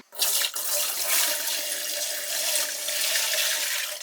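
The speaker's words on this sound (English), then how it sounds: "Here is the bucket with the water in it that I am now going to drain." Water pouring out of the bucket of an old-fashioned hand-crank ice cream maker, a continuous loud splashing gush that runs steadily for several seconds with no talk.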